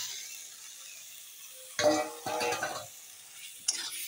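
Fried potatoes stirred into a spice mixture in a pan, heard as a few short scraping stir strokes with light sizzling over a quiet background, plus a brief clink near the end.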